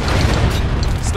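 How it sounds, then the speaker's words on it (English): A mortar fires and detonates in a military shooter game, a dense, loud, continuous low rumble of booming blasts with bursts of higher crackle throughout. "Loading mortar. Fire!"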